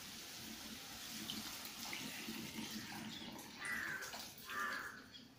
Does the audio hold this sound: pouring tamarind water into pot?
yes